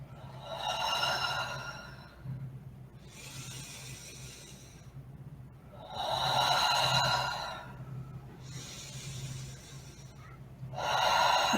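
Slow, deep chest breaths taken during a guided breathing exercise, with airy inhales and exhales alternating in long cycles of about two to three seconds each, close and fairly quiet, with no talking.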